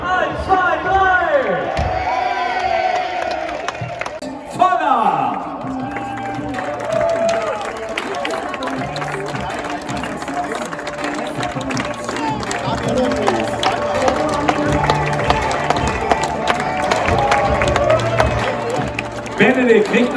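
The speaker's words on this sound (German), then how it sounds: "Und Applaus für Daniel" Crowd at a marathon and half-marathon award ceremony claps and cheers for a winner, with an announcer talking loudly over the applause and lively shouting throughout.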